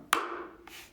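One sharp, ringing hammer (martillo) stroke on a bongo drum, close and bright, followed by a lighter second touch as the tone fades.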